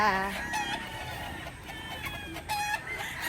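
White Kelso chickens being moved into a flying pen cluck and squawk close by, with a rooster-like crowing cry mixed into the agitated calls over a short stretch.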